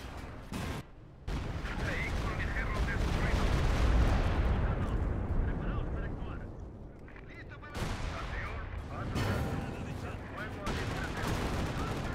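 Rocket artillery barrages roar and boom in a Company of Heroes 2 two-versus-two match with the OKW faction, sustained heavy blasts and rumbling impacts with brief gaps, while players talk over the battle.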